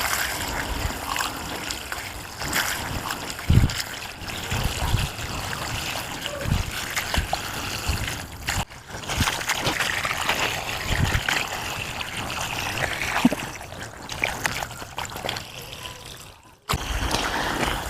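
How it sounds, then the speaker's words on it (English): Water poured in at the top of a vertical garden trickles and dribbles down through it, a continuous soft, uneven running and splashing with occasional knocks, fairly close and steady throughout. "this is where I'm putting my water, and then we'll see whether the water is going to get to the bottom part of the vertical garden"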